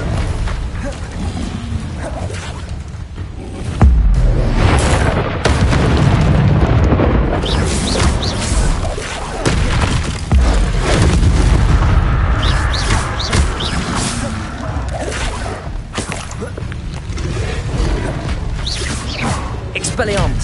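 Confringo explosion spells in the Hogwarts Legacy video game, a string of loud, close booms and crashing bursts over a continuous rumble, with voices shouting spell names through the fight.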